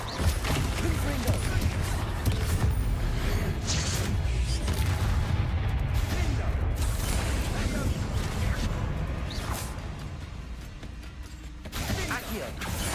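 Confringo spell blasts go off in Hogwarts Legacy amid a dense, loud din of booming impacts and crackling bursts during cavern combat, with a voice speaking over the continuous clash.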